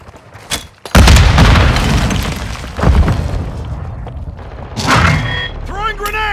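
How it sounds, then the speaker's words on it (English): A grenade blows up in Call of Duty: Modern Warfare II, one heavy booming blast that rolls off slowly, followed by a second thump, gunfire and shouted voices. "Throw a grenade!"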